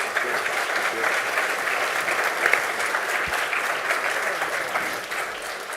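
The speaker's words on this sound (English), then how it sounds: "please give them a round of applause" Sustained audience applause at a business awards symposium, dense and steady clapping filling the room for several seconds with no speech over it.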